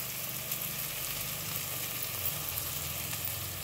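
Tomatoes frying in a pan for Mangalore-style prawn sukka, a constant close sizzle with a soft crackling texture and a low hum underneath, no talking.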